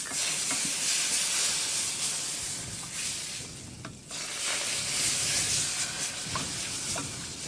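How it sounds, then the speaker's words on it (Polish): Milk is poured slowly into a pot taken off the heat and stirred to work out lumps while making baked dried cod, giving a steady, close hissing wash with faint stirring scrapes throughout. "Garnek trzeba teraz zdjąć z ognia i bardzo powoli wlewając mleko wszystko ładnie rozprowadzić, by nie było żadnych grudek."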